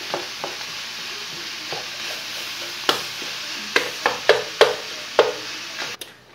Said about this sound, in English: I done added the ground beef back in the frying pan.